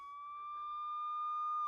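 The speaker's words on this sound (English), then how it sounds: "they hear the sound of a siren. It is a police car." A police car siren sounds alone, a steady high electronic tone with bright overtones that holds and slowly swells louder across the short moment.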